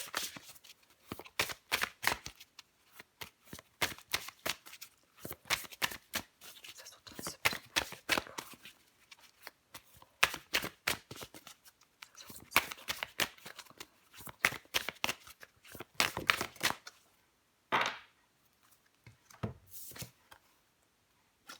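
Tarot cards being shuffled up close, a long run of quick crisp riffling bursts with short pauses in between, closing on a few separate slaps and flicks of cards.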